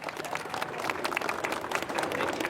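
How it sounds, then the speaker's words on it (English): Audience applause at a San Diego civic event welcoming a fire rescue department firefighter to the stage, a dense steady wash of many hands clapping with crowd noise throughout. "give him a big round of applause, everybody, Josh Garcia."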